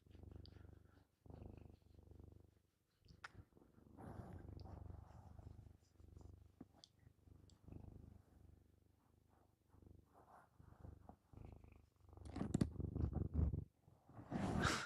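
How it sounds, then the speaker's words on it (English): Quiet purring from a house cat, rhythmic rumbling phrases rising and falling close to the microphone, with brief pauses and louder stretches near the end. "Can you hear her purring?"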